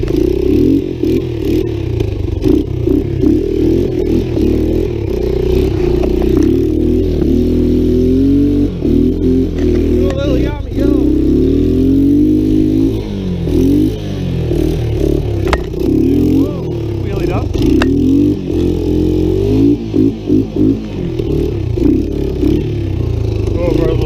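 A Yamaha 200 Tri-Moto race trike engine roars loud and steady up close as the three-wheeler drifts, with revving swells and rattling clatter, while someone talks over it.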